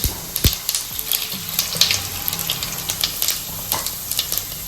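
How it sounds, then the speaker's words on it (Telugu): Cumin seeds fry in hot oil, giving a continuous, close sizzle peppered with sharp crackles and pops. No one speaks. "సో నేను దీంట్లో ఫస్ట్ జీలకర్ర వేసుకుంటున్నానండి."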